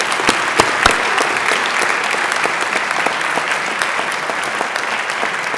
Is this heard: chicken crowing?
no